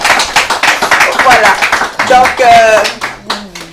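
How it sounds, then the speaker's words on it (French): Studio audience clapping on a French television talk-show set, a steady patter of many hands close by, with someone talking over it as the applause thins out toward the end. "Peut-être par des applaudissements pour qu'on sache qu'il y a des personnes qui sont là."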